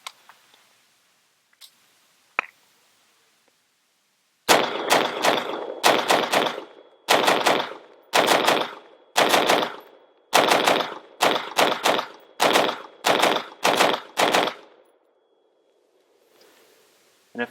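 AR-15 rifle fired in a rapid string of about a dozen loud, sharp shots from a 30-round magazine, after two isolated clicks and before a quiet tail.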